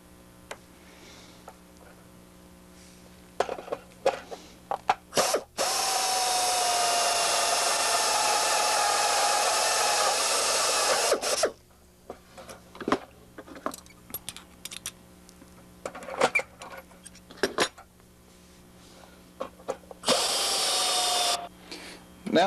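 A power drill whirs in one long steady burst through Van's RV-6 aircraft fuselage parts, preceded and followed by clicks and handling noises, with a second short drilling burst near the end.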